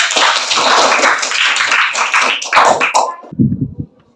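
A classroom of students claps their hands in a busy, fairly loud patter that runs for about three seconds, then breaks into a few scattered, louder claps and quickly dies away.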